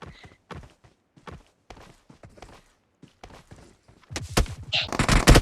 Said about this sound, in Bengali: আমি তো গুলি তো আকাশে উড়াচ্ছি।